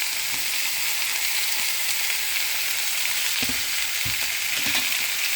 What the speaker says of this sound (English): I'm just going to brown that right in here.